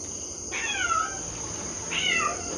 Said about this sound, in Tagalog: Pusa lang yan.